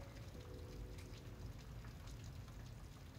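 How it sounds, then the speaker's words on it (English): Heavy rain pours steadily outside a window, a dense, even wash of broadband noise that carries unbroken through the whole stretch with no voices over it. "for the longest time, it is pouring outside my window"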